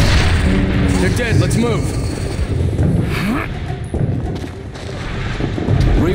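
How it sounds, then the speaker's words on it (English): Loud artillery support fire in The Bureau: XCOM Declassified, with repeated close, heavy booms and sharp gunfire bursts, while soldiers shout over the barrage. "artillery! Bringing in support fire!"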